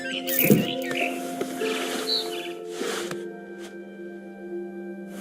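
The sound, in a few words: barn swallow chirping, from video game What Remains of Edith Finch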